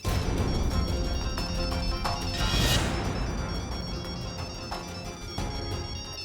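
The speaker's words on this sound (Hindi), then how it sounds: "बुलबुल क्यों फोन कर रही है?" A phone ringtone plays continuously over busy background music and clatter, loud and close, with no one speaking.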